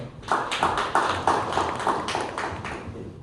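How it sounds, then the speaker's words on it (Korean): Audience at a homebrew party in Pangyo claps to welcome a presenter to the stage, a steady run of even, closely spaced claps that holds for a few seconds, fairly close and clear. "우리 7번째 윈드위시 임재철 대표님을 박수로 환영 부탁드립니다"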